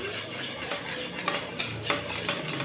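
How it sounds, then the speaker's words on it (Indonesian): Eclair custard being stirred in a pot on the stove, with a spoon scraping steadily and rhythmically against the pan. The sound is close and continuous, and a faint sizzle sits beneath it. "Selanjutnya masak sambil terus diaduk hingga mengental."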